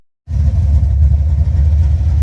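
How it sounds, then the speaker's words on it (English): A car engine fitted with an Edelbrock 1405 carburetor starts after a brief silence, then idles as a loud, close, steady low rumble with slight pulsing throughout. "idling rock solid"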